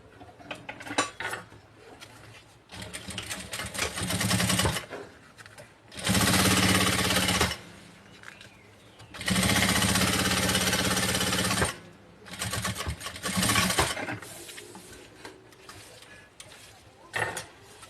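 A sewing machine topstitches fabric for a pencil case, running in loud, rapid bursts of several seconds each with pauses between, alongside clinks and handling noises at close range.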